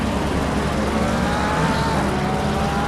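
Race cars, Porsches among them, brake and charge into a hairpin at Barcelona during a 24-hour endurance race, with a steady, loud engine roar and some tire noise that holds for the whole stretch.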